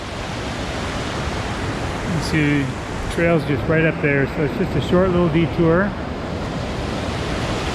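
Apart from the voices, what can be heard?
water cascading down a mountain stream near Sky Pond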